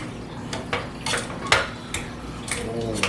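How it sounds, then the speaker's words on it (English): Butter melting into a beef casserole being stirred in a pan: a series of clinking, scraping utensil strokes at a steady rhythm over a soft sizzling background. "Melt it up in there, get it all stirred up."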